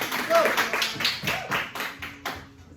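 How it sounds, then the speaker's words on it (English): Scattered hand clapping from a class of students rings out briefly, a short round of applause with uneven taps, while voices chatter over it. "Round of applause for Eli."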